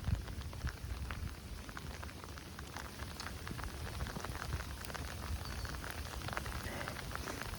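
Steady heavy rain patters densely on surfaces nearby, a continuous hiss of drops with no voices.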